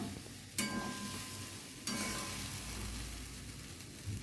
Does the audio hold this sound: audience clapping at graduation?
no